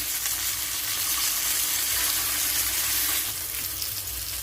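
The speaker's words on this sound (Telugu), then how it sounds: "చూడండి ఫిష్ బాగా ఫ్రై అయింది కదా." Fish frying in a pan gives a loud, steady, close sizzle that crackles throughout with no pauses and no talking.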